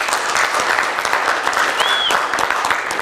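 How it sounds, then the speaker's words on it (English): Steady applause from the audience at a Waynesville, Missouri city council meeting, many hands clapping in a dense, even patter with a brief whistle or squeak partway through. "So let's give them a round of applause."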